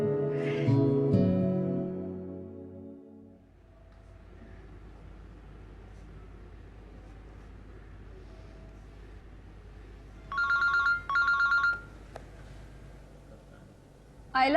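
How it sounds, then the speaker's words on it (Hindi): A phone rings in a domestic drama scene: two short bursts of a bright electronic ringtone, moderately loud and close, over a low room hum. Voices are heard at the start. "आयला आपी, आपका फोन बज रहा है।"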